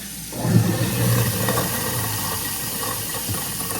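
A newly installed kitchen garbage disposal running with water, a steady close whirring hum and broadband rush that holds constant throughout, with no voices.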